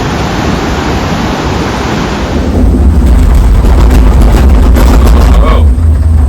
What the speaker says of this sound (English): Definitely one of the best waterfalls I've seen.